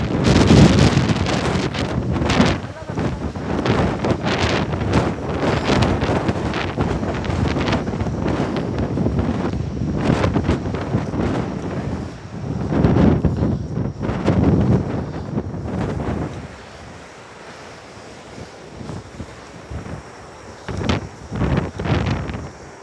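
Strong typhoon wind batters a beach during Typhoon Maysak, a loud, continuous roar of gusts buffeting the microphone that surges and eases, dropping quieter near the end before brief renewed bursts.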